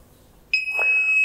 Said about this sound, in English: Buzzer will tone for 5 seconds